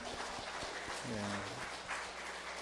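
A church congregation applauds the mothers during a worship service, a soft, continuous wash of many hands clapping heard faintly from a distance, with a low voice and hum beneath it.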